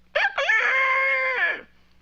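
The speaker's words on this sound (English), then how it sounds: "sounds like a rooster" A single loud, close rooster crow, a brief rising opening note followed by a long sustained call that cuts off cleanly.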